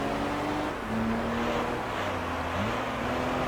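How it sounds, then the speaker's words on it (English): Game car engine in Gran Turismo Concept, sounding like an Alfa Romeo: a steady droning note that shifts pitch as the revs change, with no talk. "The thing basically sounds like an Alfa Romeo,"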